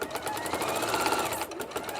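A sewing machine fitted with a walking foot and jersey needle stitches stretch fabric, a close, steady, fast mechanical whirring that runs without pause and with no voices.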